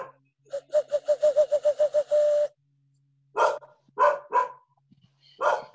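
A dog barks in a rapid run of about ten sharp yips that merge into a held whine, then after a pause three or four louder, heavier barks follow, close and clear over a low hum.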